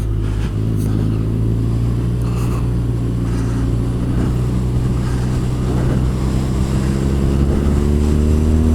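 A 2017 BMW R nineT Scrambler motorcycle on a test ride, its exhaust giving a continuous deep drone with rising throttle pitch near the end, heard up close over steady wind noise.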